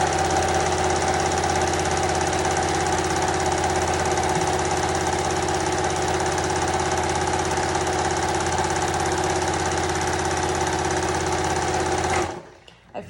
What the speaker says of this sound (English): I'm just sewing where that strip is